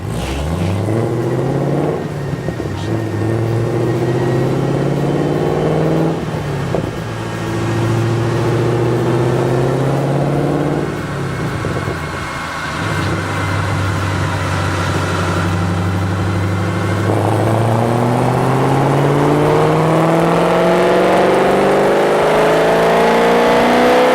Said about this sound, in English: Let's put those BBK full lengths to the test on our dyno.